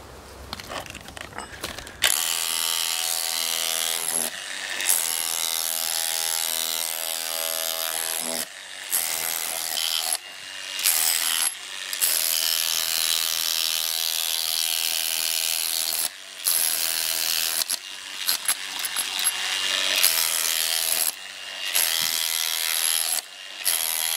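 Loud, harsh mechanical chiselling from a DeWalt DCH273 18V brushless cordless SDS Plus rotary hammer in chisel mode, in long bursts, each run broken by brief pauses, the hammering buzzing steadily and close.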